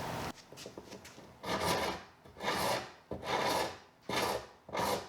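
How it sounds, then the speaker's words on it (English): A Shinto rasp files wooden tenons for breadboard ends in a steady rhythm of about five firm scraping strokes with short pauses between, close up and alone. "I've got a Shinto rasp, and I just bring all these down to my line and level them up"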